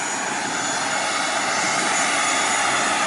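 Engine of a small propeller airliner on a Nok Air flight from Chumphon to Bangkok, heard as a loud, steady broadband roar that fills the whole stretch, with no talk.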